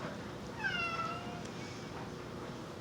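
A cat gives a single clear, faint meow with a rising-falling pitch, heard alone against a quiet indoor room hiss.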